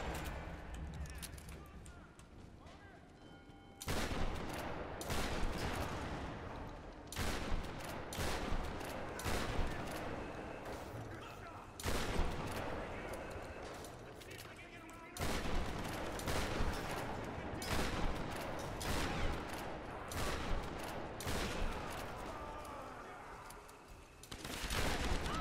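AK rifles fire in Tomb Raider, sustained volleys of gunshots in long loud bursts separated by brief quieter gaps.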